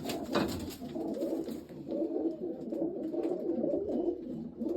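Soft, low pigeon coos repeat steadily over a continuous murmur of many birds nearby, with no voices.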